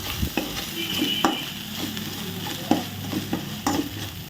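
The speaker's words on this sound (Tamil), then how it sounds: "ஸோ அதனால் நம்ம எண்ணெயிலேயே போட்டு இந்த மாதிரி மிக்ஸ் பண்ணிடுவோம்." Chili powder stirred into hot oil for Chettinad chicken sukka, with a steady sizzle under repeated scraping strokes of a spoon against the pan. The stirring is close and fairly loud, and no one speaks.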